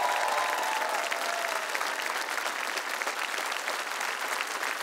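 Loud, sustained applause from a studio audience at a televised children's talent show, honoring the young performers, steady and dense throughout with a faint voice at the very start.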